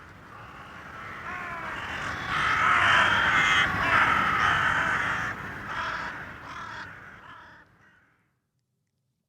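Several crows caw harshly in an overlapping chorus, loud and close at first, then trailing off until silence.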